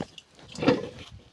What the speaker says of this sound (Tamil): உருளைக்கிழங்கு தண்ணியில் போட்டு அலசி டப் டப் போட்டு